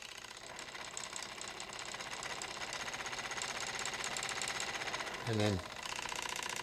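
A no-drag generator motor runs with a steady, rhythmic mechanical whir throughout, heard at a moderate distance, with a brief voice speaking near the end.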